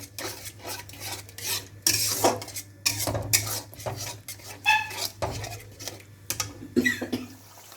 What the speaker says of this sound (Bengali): দইটা দিয়ে নাড়াচাড়া করে মাছগুলো আমি দিয়ে দেবো।